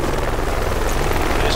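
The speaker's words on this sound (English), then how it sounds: "Enemy heli coming right at us." An enemy helicopter in Project Reality approaches and comes in to land, a loud, close, continuous rotor thump filling the short stretch.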